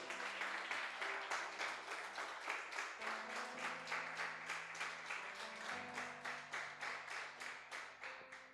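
Dense, steady applause from a church congregation fills the space, with organ or keyboard chords sustained underneath throughout.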